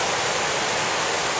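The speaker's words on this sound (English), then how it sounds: "we got all kinds of water seeping out from this dam" Water seeping and rushing out of a dam on the Pit River in Shasta County, a steady, broad, continuous roar like a nearby waterfall or stream with no break.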